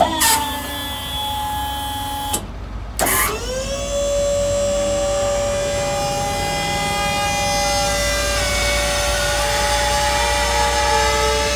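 Electric hydraulic pump on a dump trailer whining as the bed is raised by its controller, a loud sustained tonal drone that cuts out briefly, restarts and then holds steady, pitch shifting slightly as it works, close by.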